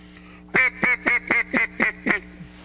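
A duck call blown as a comeback call to imitate a duck: seven loud, evenly spaced quacks in a quick descending run, close and clear with no talking.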